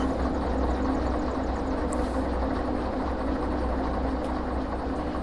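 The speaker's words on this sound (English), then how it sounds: "So engine number 2 fired up." A DE2 diesel locomotive in the Derail Valley game starting up, a loud, steady low engine drone with rumbling that holds constant throughout, with no talk.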